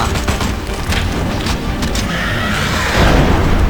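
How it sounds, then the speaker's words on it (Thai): A loud, booming explosion in a Suicide Squad video game, with a crackling rumble that swells near the end, set over continuous busy game noise. "โอ้ยโดนระเบิด"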